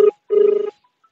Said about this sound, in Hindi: ये देखिए रिंग की आवाज